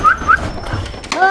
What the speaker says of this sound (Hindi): मेरे कुत्ते का बच्चा।